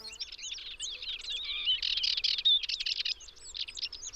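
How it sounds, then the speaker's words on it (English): Wild birds singing in Iberia during the breeding season: several overlapping songbird voices chirp and trill in dense, continuous bursts, moderately close and clear over a quiet outdoor background. "During this season, birds also resort to strategies in order to reproduce. Singing is one of the most favored."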